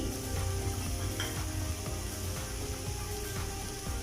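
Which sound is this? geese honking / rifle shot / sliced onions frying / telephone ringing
sliced onions frying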